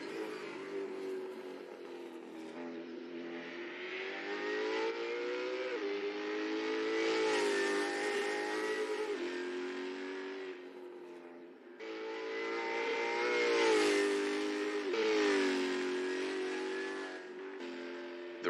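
Race car engines in a NZ SuperLap virtual racing video game, revving and accelerating through gear changes in long, loud, continuous rising and falling sweeps.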